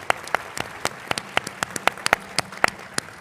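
A small group claps steadily at a summit, with sharp, distinct hand claps in a sparse, even rhythm and no talking.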